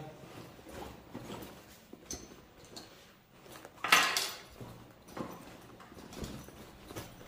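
Small items including a spoon, pens and pencils spill out of a school bag in scattered clatters and knocks, with one louder burst of rattling midway and no talking.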